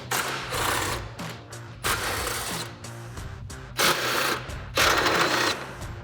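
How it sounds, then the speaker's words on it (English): A 13mm socket ratchets off nuts from the inner support bracket of a Jeep Wrangler JL during a front bumper install, making bursts of close metallic clicking and rattling with short pauses between nuts. "We're gonna grab our 13mm socket and remove all of those."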